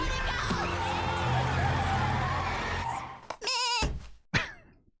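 Goats bleat in an animated show: after a dense, busy stretch of sound, two short wavering bleats ring out near the end, close and fairly loud, with pauses between.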